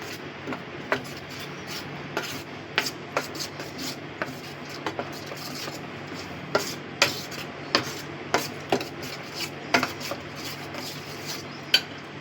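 Bhetki fish paturi ingredients being mixed in a bowl, a spoon scraping and clinking against the dish in irregular taps and rubs, close and moderately loud, with no talking.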